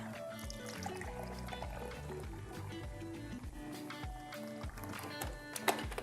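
Milk pours into a bowl of dissolving yeast in a home kitchen, a faint liquid glugging and splashing that continues for several seconds.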